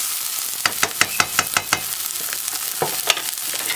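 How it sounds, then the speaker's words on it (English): Onions frying and starting to burn in a pan, a steady sizzle under a quick run of spatula scrapes, then a few more strokes, close and fairly loud. "Onions are burning, TT. Onions are burning."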